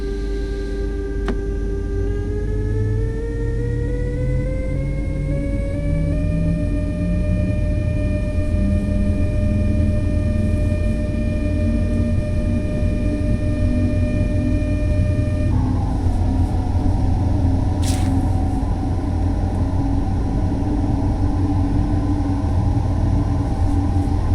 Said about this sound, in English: As the train accelerates, you can apply more power as needed.